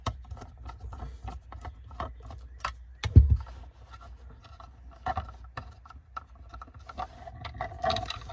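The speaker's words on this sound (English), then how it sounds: "Pull the screws out. And pull this screw out." Screws being removed from a vent panel on a 100 Series Land Cruiser: close, sparse clicks and ratcheting ticks with small scrapes and one louder clunk midway, no talking.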